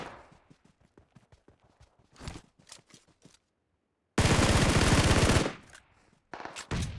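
PUBG Mobile gunfire is heard: rapid rattling bursts of automatic shots, then a short pause, then a long dense loud volley and a few more shots, all close and with no talk.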